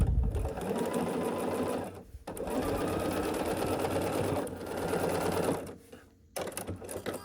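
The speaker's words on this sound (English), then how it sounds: "And we'll sew this final 2 seams." A sewing machine runs in steady bursts as it stitches the last two seams of a scrappy quilt block, a close whirring hum broken by a brief pause near two seconds and a short stop just before the end.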